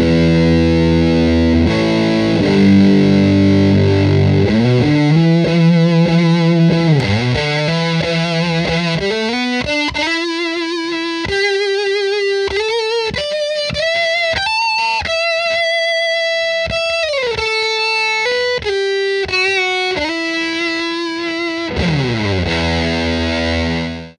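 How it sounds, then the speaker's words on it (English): Electric guitar through an Electro-Harmonix Deluxe Big Muff Pi fuzz pedal set for a treble-boost tone, with thick sustained distorted notes, bends and held lines, loud and continuous with no talking. "so it's going to give a treble booster effect."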